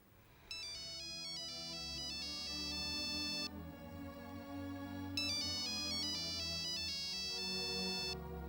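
A mobile phone plays a bright melodic ringtone that loops its repeating phrase loudly and clearly, with no talk over it, in a domestic drama scene.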